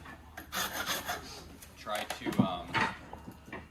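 Rasping and rubbing as wood is filed off an axe handle so the head will fit, given in short uneven strokes close by, with someone talking over them.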